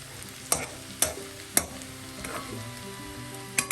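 A spoon scrapes and stirs breadfruit thoran with ground coconut spice paste in a hot pan, giving a few sharp clacks against the pan over a soft, steady sizzle of frying, with no talking.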